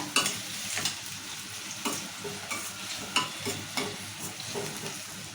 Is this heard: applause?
no